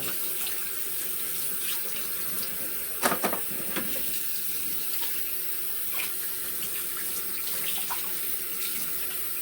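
Tilapia fish being rinsed under a running kitchen tap, a steady close hiss of flowing water with a few louder splashes and clunks as the fish is handled in the sink.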